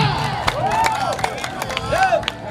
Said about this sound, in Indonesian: Tepuk tangan untuk tim sepakat.